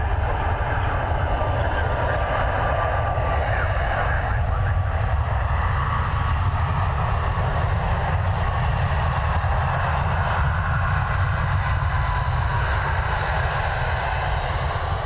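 An airliner comes in to land at Dublin Airport in low visibility, a steady, loud jet roar and rumble that holds unbroken for the whole stretch with no talk over it.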